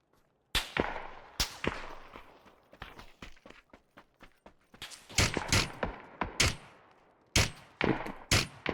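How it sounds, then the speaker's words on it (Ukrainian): Gunfire in a video game cracks out in sharp, loud single shots and quick bursts, some near and some farther off, spaced irregularly with softer clatter between them and no talk. "три по нас стріляють"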